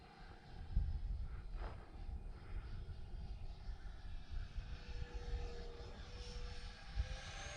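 An Arrows T33 RC jet model flies over a park, its electric ducted-fan whine drifting with pitch changes as it climbs through a loop and stalls at the top, moderately distant, under wind noise and occasional talk.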